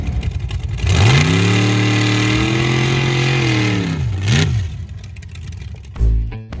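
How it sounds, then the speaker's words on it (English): A brand-new truck revs hard on dry dirt during a big burnout, its engine climbing to a sustained loud roar for about three seconds before dropping back, then a brief final rev near the end. "The thing just did a big burnout."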